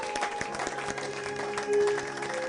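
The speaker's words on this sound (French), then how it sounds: "Acclamons pour la gloire de notre Dieu." A church congregation applauds together, a steady wash of clapping that fills the space at an even level, with tonal music or singing sustained underneath.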